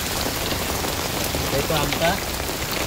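Heavy rain pours steadily onto an umbrella held outdoors near market stalls, a dense, close patter that continues without a break. A person speaks briefly under the downpour.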